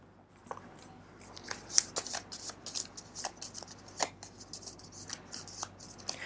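Small tarot cards are shuffled and drawn from a deck, giving soft, rapid papery riffles and flicks in quick irregular bursts, close and fairly quiet.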